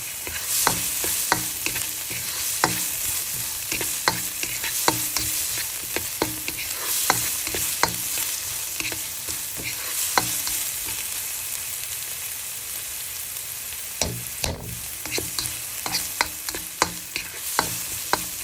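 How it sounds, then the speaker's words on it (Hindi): Mixed vegetables for fried rice frying in a pan, a steady sizzle with repeated sharp clicks and scrapes of stirring throughout, close and fairly loud with no talking. "तो थोड़ा सा हम पका लेते हैं सब्जियों को"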